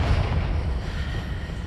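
A Confringo fire spell detonates in Hogwarts Legacy, a dense, rumbling low boom that fills the moment and keeps churning rather than decaying quickly, with no voices.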